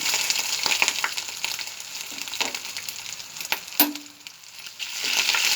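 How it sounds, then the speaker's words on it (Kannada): Curry leaves and ginger garlic paste fry in a pan with a bright, continuous sizzle, punctuated by the clinks and scrapes of a spoon stirring against the metal. "ಇದು ಸ್ವಲ್ಪ ಹಸಿ ವಾಸಿ ಹೋಗೋ ತನಕ ಸ್ವಲ್ಪ ಹಾಗೆ ಫ್ರೈ ಮಾಡ್ಕೋಬೇಕು"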